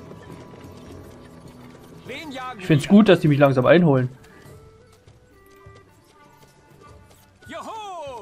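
Horse hooves clip-clop steadily in the Stronghold Warlords strategy game, a low rhythmic patter running under someone speaking German and brief game sounds.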